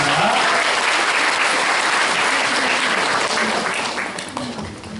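A seated audience at a panel event at a university language institute gives a dense, sustained round of applause, loud and close, tapering slightly toward the end.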